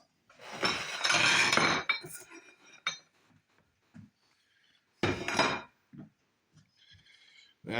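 Plates and dishes handled in a home kitchen during breading of fried food, with two bursts of clattering and clinking followed by sparse small knocks and taps, fairly close.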